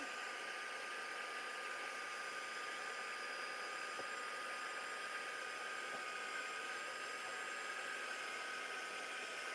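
A hair dryer blows steadily over a piece of mixed media artwork, an even, unbroken whir with a faint high whine, close and constant with no talking.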